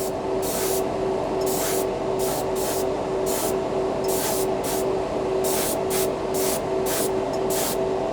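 A cheap Harbor Freight airbrush run from its small compressor sprays paint in repeated short bursts of hiss over a steady compressor hum and drone.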